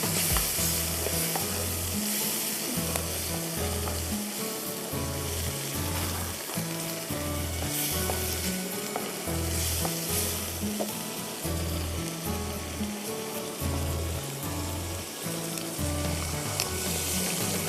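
Vegetables, including capsicum and sweet corn, fry and sizzle loudly in a pan for a chicken sandwich filling, with stirring noises and a steady rhythmic beat of music underneath throughout.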